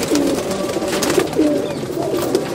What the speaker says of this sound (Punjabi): ਬਟੇਰੇ ਨਸਲ ਦੇ ਕਬੂਤਰ ਆ ਜੀ